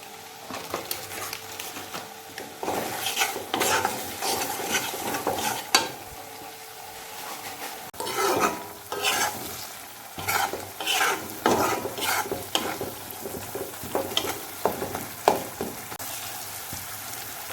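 A spice masala with Kashmiri chili is stir-fried in a pan for a chicken and potato curry, with repeated scraping strokes of a spatula against metal over a soft, steady sizzle, close and rhythmic with brief pauses.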